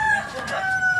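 A rooster crows in Tana Toraja, Indonesia, one sustained call that fills the moment, fairly loud and near over faint background noise.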